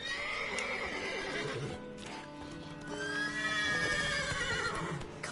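Several horses neigh and whinny in overlapping bursts in a stable in The Witcher 3, loud and close, with hooves shuffling beneath a steady game ambience.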